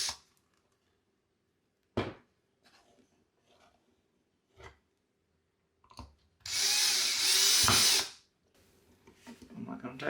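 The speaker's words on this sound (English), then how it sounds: "Now you can go ahead and attach that second screw." A power drill drives a screw into a wall while a Blink video doorbell is being mounted, one loud sustained whir of about two seconds close by, surrounded by quiet handling noises and brief clicks.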